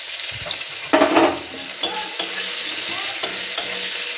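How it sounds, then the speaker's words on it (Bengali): Chopped onion frying in hot oil with five-spice for a banana-flower dal, a steady close sizzle with stirring scrapes and a louder burst of spatter early on. "তেল 5 ফোড়ন গরম বসিয়ে দিয়েছি, আর ওতে দেবো হচ্ছে যে পেঁয়াজ কুচি,"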